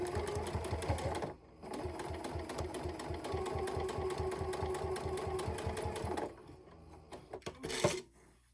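A sewing machine stitching the binding on a mini quilt runs in a steady rapid rhythm for several seconds, stops briefly, resumes, then halts with a few soft clicks of fabric handling nearby.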